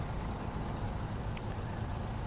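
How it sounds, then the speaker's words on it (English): Truck engine idling steadily in the SnowRunner video game, a Fleetstar truck, a continuous low rumble heard alone and fairly quiet throughout. "Turn on the engine in the Fleetstar as well."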